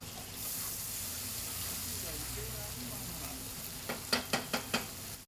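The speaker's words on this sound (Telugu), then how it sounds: "ఇప్పుడు ఇదే ఆయిల్లో మనం ఈ పేస్ట్ని ఇలా వేసేసి మంచిగా ఫ్రై చేసుకుందాము." Onion-tomato paste is dropped into hot oil for a fish biryani, giving a steady broadband sizzle with a spoon scraping and stirring, followed by a handful of sharp clinks near the end.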